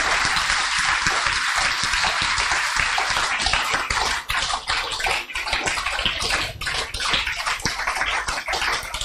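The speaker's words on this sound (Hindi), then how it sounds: "मैं कहूँगी जोरदार ताली भाई साहब के लिए फिर से बजाएं।" Loud, sustained applause from a large audience at a spiritual gathering and celebration at Pandav Bhawan in Delhi, dense clapping rolling on steadily throughout with brief dips, no talking over it.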